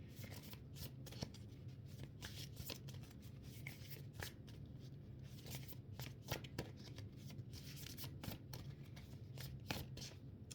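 Steady riffling and snapping of a deck of cards being shuffled, close up, continuous crisp flutters with no talking.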